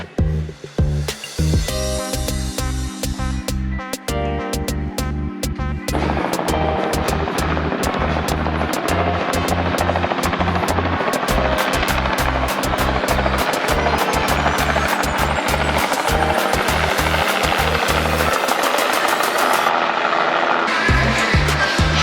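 A tour helicopter's rotor gives a loud, rapid rhythmic chopping that pulses steadily for the whole stretch, close and dominant, with the thumping shifting slightly in character near the end.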